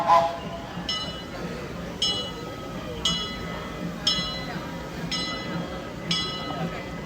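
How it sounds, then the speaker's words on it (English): The Disneyland Railroad train passes, with regular metallic clacks from the wheels repeating about once per second over a low rumble, fairly near and steady. "You can hear the Disneyland Railroad is coming by."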